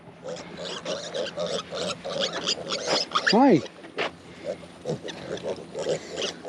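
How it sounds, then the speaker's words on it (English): Young piglets in a farm pen give a short burst of squealing grunts partway through, close and loud, with a person speaking briefly around them. "But the little pigs are right over here."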